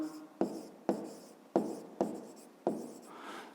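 A pen writes on paper while working a fifth-grade math exercise, making five or six evenly spaced scratchy strokes, close and clear, with no talk over them.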